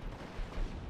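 Mortar fire in a World War II strategy game, a steady rumble of distant artillery booms and thuds running through the short stretch with a couple of louder swells.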